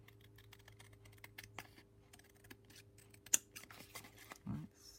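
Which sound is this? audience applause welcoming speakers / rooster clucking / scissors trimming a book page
scissors trimming a book page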